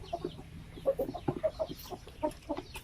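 Hens clucking close by in a steady series of short, clipped calls, some overlapping, with no talk; one hen has a twisted neck.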